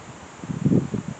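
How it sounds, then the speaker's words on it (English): Gusty wind blows outdoors, buffeting the microphone with low, rumbling surges that swell in the middle of a brief, otherwise quiet moment, with no one speaking. "Try and get out of the wind behind a tree or something."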